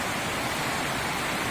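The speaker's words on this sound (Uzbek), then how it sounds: "Mana shovllab oqayotgan soy." A mountain stream at Shohimardon rushes with a steady, dense, unbroken roar of flowing water, close and even throughout, with no voices.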